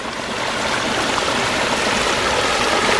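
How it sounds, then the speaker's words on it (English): A rocky stream and waterfall give a loud, steady broadband rush of water over stone, close and continuous throughout with no voices. "One of my favorite parts of this waterfall is we've got this little channel, a little chasm back here."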